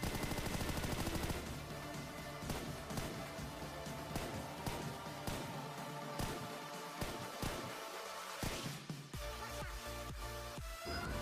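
Rapid gunfire in PUBG Mobile, a steady stream of sharp cracks over continuous game music and ambience, with brief gaps and several louder shots standing out.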